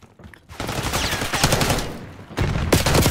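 Rapid automatic gunfire in the video game Black Ops 6, loud sustained bursts of shots with a brief break before a final burst, close and dense.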